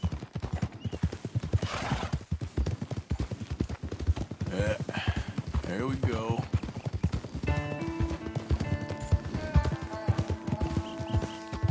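Horse hooves clip-clop at a steady walking rhythm in the Western video game Red Dead Redemption 2, joined by a loud, wavering whinny, then musical tones, with someone speaking briefly over it.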